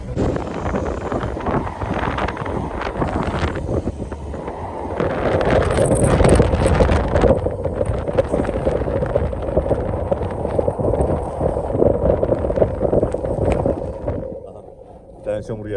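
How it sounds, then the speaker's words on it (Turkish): A Mitsubishi L200 pickup truck's exhaust rumbles low and continuously through the whole stretch, in snowy mountain conditions, with wind buffeting the microphone and people talking over it. "Yok egzoz ses yapıyor."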